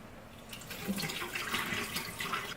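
Water drains and trickles from a batch of chilled crappie fish, a steady wet splashing and running flow close by, continuous for a couple of seconds with no talking.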